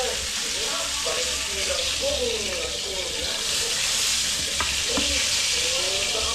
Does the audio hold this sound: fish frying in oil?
yes